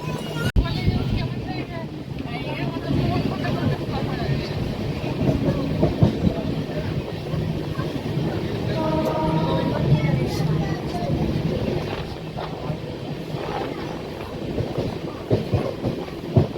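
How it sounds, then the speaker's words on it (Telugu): A running train on the Vizag to Araku route rumbles and clatters steadily with wind buffeting the microphone, while a voice talks over the continuous rolling noise. "ఇదైతే రన్నింగ్ ట్రైన్ అనమాట"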